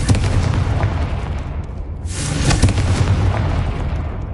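Confringo and Bombarda spell explosions blasting spider egg sacks in the Hogwarts Legacy video game, a run of loud booms and bursts over a continuous rumbling bed, with a sharp blast in the middle.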